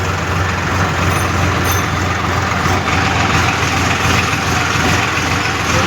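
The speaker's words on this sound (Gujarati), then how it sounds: "અમારા ટ્રેક્ટર લઈને અમે નીકળી ગયા છે હવે પંચોરા" A tractor engine running on the road, a loud, steady low rumble and drone that holds for several seconds without a break and with no talk.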